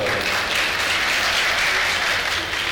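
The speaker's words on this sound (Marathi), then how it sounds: "तिथे आपल्यासाठी जोरदार टाळ्या" An audience at a Maghi Ganeshotsav event in Dombivli applauds loudly and steadily, a dense, continuous wash of many hands clapping that fills the whole moment with no voices over it.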